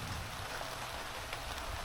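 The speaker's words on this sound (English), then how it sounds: "we didn't have to go too long without rain" Steady rain falls outdoors on a farm, a dense, even hiss of drops that holds at the same level throughout, with no voices.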